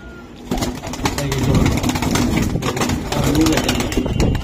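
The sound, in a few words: pigeons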